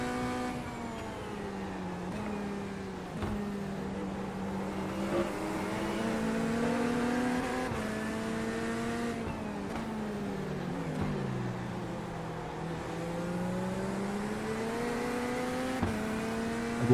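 Mustang race car engines roar continuously in the iRacing sim, a steady layered drone with pitch rising and falling through gear changes and corners, loud and sustained with no voice over it.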